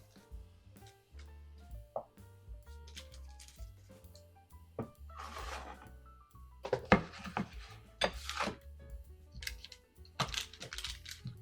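Cold butter being broken up by hand in a bowl, a scattered series of soft squishes, small cracks and light clinks against the dish, close and quiet with no talking.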